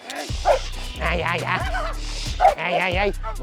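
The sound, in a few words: dog barking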